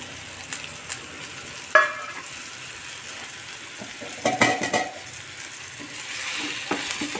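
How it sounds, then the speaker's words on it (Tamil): Brinjal frying in a pan for a biryani-style gravy, a soft continuous sizzle broken by clinks and scrapes of a spoon stirring, heavier in a short burst midway. "இப்போ இந்த இதில் கத்திரிக்காயை போட்டுருவோம்"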